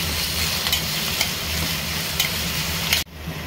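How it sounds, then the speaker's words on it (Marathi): Onion with crushed chili and garlic being stirred in a hot pan, a steady broadband sizzle with occasional scraping stirs; the frying cuts off sharply near the end, leaving quieter background. "तर हे मिश्रण चांगल्या प्रकारे तुम्हाला हलवून घ्यायचं आहे"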